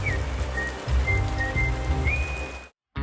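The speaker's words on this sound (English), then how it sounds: "The rain got heavier in the evening." Heavy evening rain patters on a surface nearby in Norway with a constant hiss, while faint high whistling tones drift in and out. The sound cuts off abruptly near the end.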